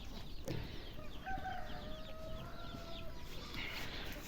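A rooster crows once in a long drawn-out call, with faint clucking around it in a quiet outdoor setting.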